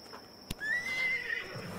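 A horse in a video game whinnies once, a sharp, close neigh that rises then holds a wavering high tone, preceded by a brief click and soft hoof-like sounds.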